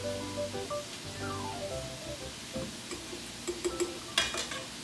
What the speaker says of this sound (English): Okay, we're going to mix this up, and it's going to turn into a thick